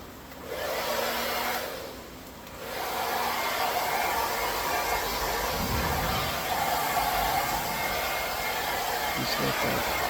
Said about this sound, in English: this blower, even it's on low, and it's pretty powerful